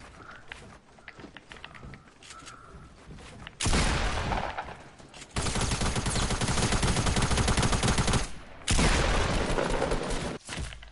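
Rapid gunfire crackles in a first-person shooter game, long dense automatic bursts breaking out loud and close after quieter footsteps and movement, with short pauses between the volleys.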